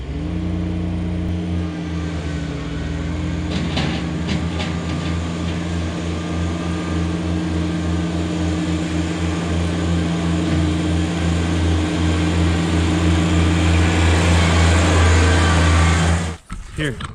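Kubota BX and John Deere 1-Series compact tractors racing, their small engines droning loud and steady for the whole stretch before cutting off abruptly near the end.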